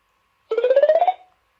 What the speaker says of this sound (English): that's the sound of when it goes on.